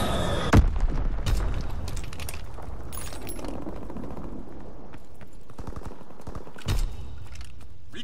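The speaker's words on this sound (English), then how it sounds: "Dropping Blitz-X bomb." Blitz-X bombing run in Call of Duty WWII, with bursts of booming explosions and gunfire rattling, a heavy blast near the start and another late, over a dense battlefield background without speech.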